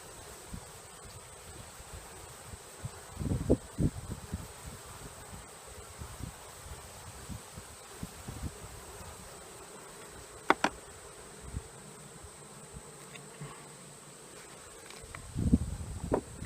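Honeybees buzz around a comb lifted from a top bar hive, a thin steady hum close by, broken by handling knocks and rustles from working the comb.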